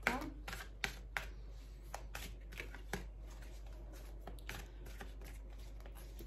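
Tarot cards are shuffled close by in a quiet room, making a run of soft papery riffles and flicks with irregular taps, while a voice speaks faintly in the background.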